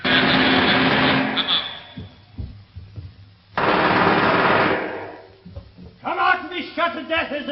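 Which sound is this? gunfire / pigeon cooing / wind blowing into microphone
gunfire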